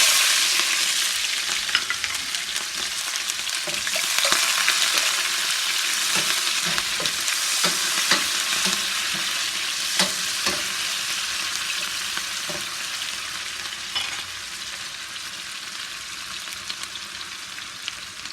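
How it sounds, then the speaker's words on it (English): Onion frying in hot oil for a jollof rice dish, a steady close sizzle with bursts of crackle and occasional stirring scrapes, continuous throughout with no voices. "So I started by heating up the oil, and I'm gonna fry the onion."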